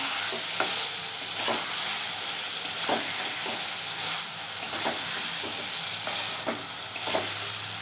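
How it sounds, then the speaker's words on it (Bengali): Masala with green peas being stirred and fried in a pan, a steady sizzle running throughout with repeated scraping strokes of the spoon every second or so, close and fairly loud, no talking. "এইবার একটু কষিয়ে নেবো ভালো করে একটু কষাবো দেখছো ভালো করে কষাচ্ছি"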